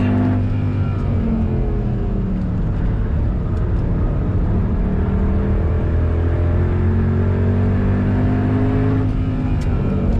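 A Mercedes W204 C63 laps the Nordschleife, its engine droning loud and close with steady tonal harmonics that rise and fall gently as it pulls through corners, accompanied by rushing wind and road noise.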